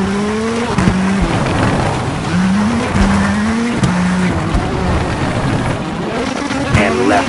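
A rally car in V-Rally 4 roars hard and close, its engine rising and dropping through quick gear shifts, with tire squeal and skidding on the stage while a voice talks over the noise.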